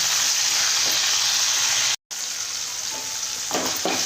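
Tomato pieces fry with onion in a pan for rice rava upma, making a continuous loud hissing sizzle with a few stirring scrapes and a brief cut to silence midway.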